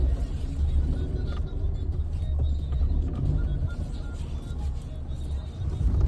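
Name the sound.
car turning around on a village road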